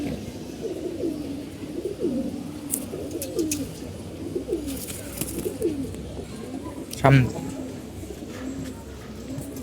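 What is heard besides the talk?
pigeons cooing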